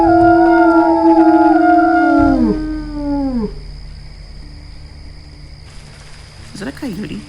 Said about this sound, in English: that's a coyote.